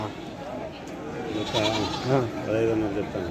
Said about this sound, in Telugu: ఇక్కడ మేకలు మేక పోతులు ఉన్నాయి